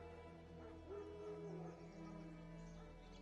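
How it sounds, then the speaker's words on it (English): Wild dogs in a video game bark and whimper faintly in the distance, with a brief whining yelp near the middle, set over a low, steady ambient background. "Wild dogs. Yes. More dangerous than wolves."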